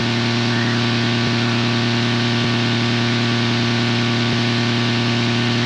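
A Yamaha Phazer engine fitted to a Kitfox aircraft runs flat out near 10,000 RPM, giving a loud, steady, unbroken drone with a strong tonal hum throughout.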